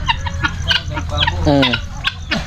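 Birds squawk and cluck noisily nearby in a busy, overlapping chorus, with a Tagalog-speaking voice mixed in underneath.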